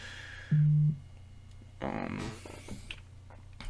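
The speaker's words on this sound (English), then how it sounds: "Let me turn my notifications off so that doesn't fucking happen anymore." A short electronic computer notification tone sounds once, a steady bright beep lasting under half a second, followed by some muffled clicks and rustling on a quiet background.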